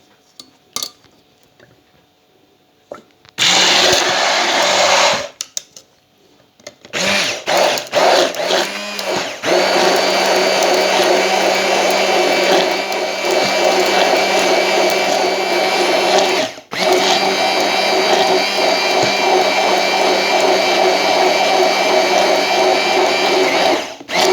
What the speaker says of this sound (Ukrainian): І тепер я буду це все взбивати вгору, вниз, піднімаючи погружний блендер.